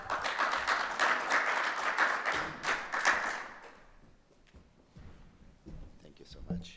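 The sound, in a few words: audience applause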